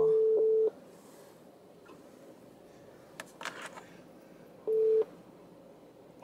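A phone call rings unanswered: two loud electronic ring tones, one at the start and one near the end, separated by a quiet stretch with faint background noise.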